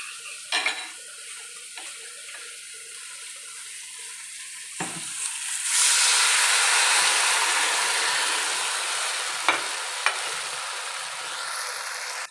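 A sauce cooks in a pan with soft stirring and scraping. Then dissolved cornstarch slurry is poured in, and a broad, hissing sizzle swells and slowly fades, with a few sharp utensil taps.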